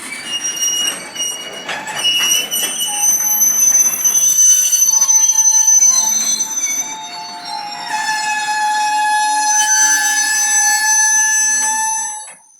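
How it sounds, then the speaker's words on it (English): Slow-moving train rolling on tracks in East Olympia, Washington, with loud high-pitched wheel squealing and screeching that rises and fades, running almost continuously and alone. "I've never seen a train on these tracks before, especially in the daytime."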